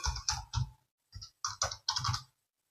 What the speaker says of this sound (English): Type in the name of the new locomotive